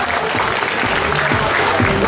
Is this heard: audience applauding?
yes